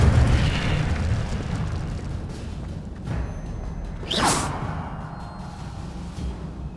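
An Incendio fire spell cast in Hogwarts Legacy bursts in a fiery boom and whoosh amid continuous game rumble and effects, with a sharp rising swoosh midway through the clip.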